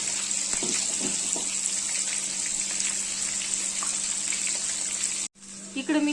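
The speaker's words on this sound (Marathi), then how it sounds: "आपल्याला याला दुसऱ्या बाजूनी पण चांगलं गोल्डन कलर युज करून तळून घ्यायचे" Paneer pieces fry in a pan, a steady broadband sizzle running for about five seconds before a brief drop, then resuming; no talk over it.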